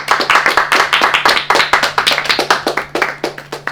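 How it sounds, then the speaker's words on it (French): A small group claps hands together in a brisk burst of applause, close and lively, with sharp uneven claps continuing steadily throughout. "Donc voilà, on s'applaudit."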